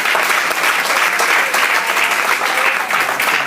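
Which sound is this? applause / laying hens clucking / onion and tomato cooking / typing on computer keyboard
applause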